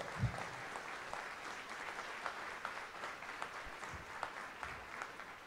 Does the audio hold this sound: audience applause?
yes